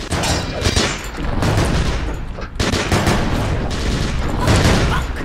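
Loud, dense gunfire in a first-person shooter game, with bursts of rapid shots and booms that run almost without a pause, close and heavy throughout.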